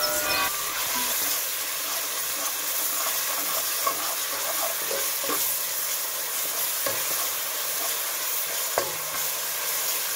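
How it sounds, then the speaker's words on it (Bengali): Onion and ginger-garlic paste sizzle steadily in a hot pan over a village kitchen fire, with a constant loud frying hiss and occasional soft scraping stirs of a spatula, no talking. "মশলাটা খুব ভালোভাবে কষতে হবে"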